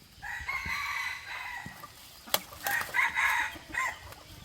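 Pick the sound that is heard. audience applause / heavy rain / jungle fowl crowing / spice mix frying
jungle fowl crowing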